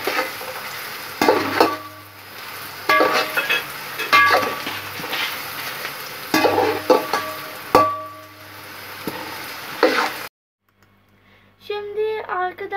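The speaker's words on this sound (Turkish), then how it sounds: "Sadece bizim sabit baharatları ekledik ve bunu şimdi karıştırıyoruz" Whole spices for mutton yakhni pulao stirred in a hot pot, with a spoon scraping and clinking against the metal over a steady sizzle, close and loud, before a brief pause and a fainter tail.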